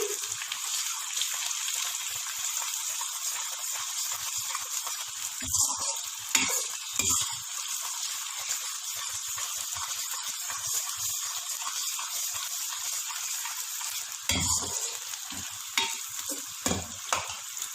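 Chopped garlic fries in hot oil in a pan for white biryani, giving a constant bright sizzle. A few louder clatters from stirring break in now and then, with no one speaking.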